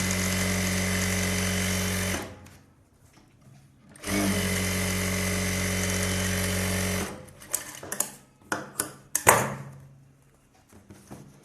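A sewing machine stitches a blouse lining in two steady whirring runs, with a pause between them, then stops, followed by a few short clicks and handling knocks.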